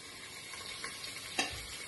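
Veg manchurian balls fry in oil with a quiet, steady crackling sizzle, broken by a couple of soft scraping stirs of a spoon in the pan.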